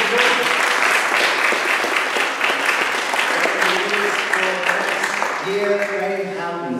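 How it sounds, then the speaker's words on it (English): A church congregation claps for two students at a Sunday service, a full, lively burst of applause that carries on steadily, with voices and some warm tonal sounds emerging toward the end. "Give them a clap."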